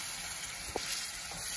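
Tomato puree with onion and garlic fries in a pot while being stirred, a soft, even sizzle with one light knock of the spoon, close and fairly quiet, with no talking.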